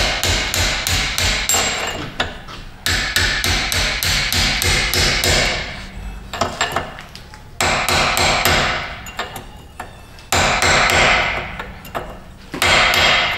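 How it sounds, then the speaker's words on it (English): Repeated sharp metallic hammer-on-chisel strikes knocking out control arm tabs on a 2011 Honda Pilot, in quick bursts, a rapid string of blows, short pauses, then more hammering, loud and close. "We'll grab a hammer and a chisel and see if we can knock the tabs out of there."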